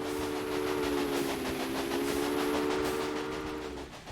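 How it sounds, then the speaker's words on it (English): A steam-era train running in the video game Railway Empire gives a sustained whistle tone over a rumbling, hissing rail noise, steady and fairly loud before fading at the end. "That's a beer train right there."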